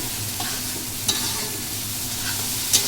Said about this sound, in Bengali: ফুপু এখন ফোড়ন দিয়ে দিল